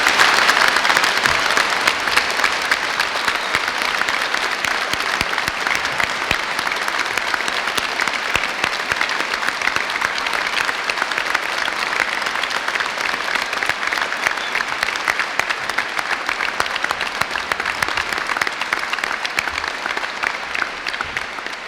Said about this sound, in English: let's start today's ceremony by giving our amazing graduates a fantastic round of applause.